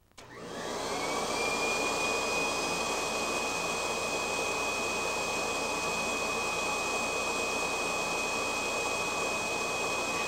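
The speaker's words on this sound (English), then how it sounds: "By attaching the inflator-deflator tool to the attachment hose, you can inflate toys, air mattresses, or other similar low-pressure inflatable items." A Kirby G4 vacuum spins up and blows air through its inflator-deflator tool on the attachment hose, making a loud, steady whooshing roar with a high motor whine that holds constant after the start.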